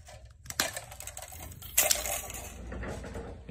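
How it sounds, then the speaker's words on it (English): Angled cutters snipping the jacket and strength members of a flat HyperDROP fiber drop cable, with a couple of sharp close clicks and crunches over a low room hum and rustling handling noise. "I will take the angled cutters, cut off the jacket, other side of the jacket, cut off the strength members"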